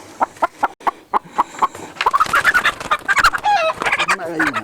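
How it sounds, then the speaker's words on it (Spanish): A hen clucking up close in a Cuban poultry yard, a string of short rhythmic clucks that turns into louder, drawn-out cackling calls, with no talk over it. "Una gallina, además preciosa."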